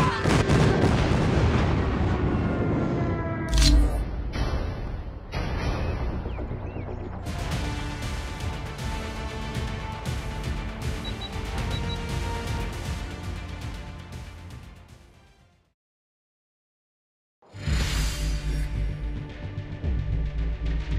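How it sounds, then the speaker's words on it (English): Airstrike explosions in Call of Duty Mobile: heavy booming blasts and rumbling impacts roll on continuously for about fifteen seconds, then cut to silence before another loud burst returns. "Enemy airstrike incoming."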